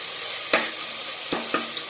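Tomatoes and mint leaves sautéing in a pan for mushroom biryani: a constant close sizzle broken by a few sharp scraping stirs of the spoon.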